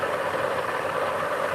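An electric coil motor runs at 1,000 RPM, giving a steady, close mechanical hum with a faint rattling vibration and no pauses.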